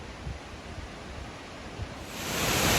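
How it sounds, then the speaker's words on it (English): Waterfall beside a creek in the Huon Valley, Tasmania, heard from a distance through forest as a steady, even hiss that grows louder toward the end. "You can hear the waterfall."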